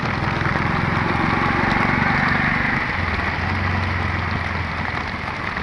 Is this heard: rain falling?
yes